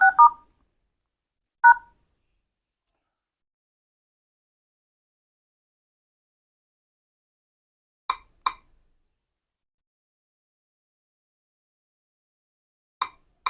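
Keypad tones from a mobile phone during dialing: six short electronic beeps in separated pairs across roughly thirteen seconds, with silence between them and no talking.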